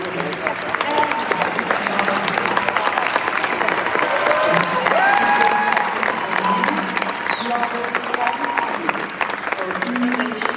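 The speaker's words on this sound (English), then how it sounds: "I really hope you can hear the audience clapping for that" Large audience clapping steadily for María Corina Machado, a dense, sustained wash of applause with scattered cheers and murmured crowd voices mixed in, continuing evenly throughout.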